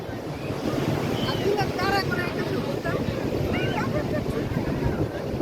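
Surf rolls in at Cox's Bazar beach during a Bay of Bengal depression, a steady wash of waves and wind buffeting the microphone, with family voices chattering over it.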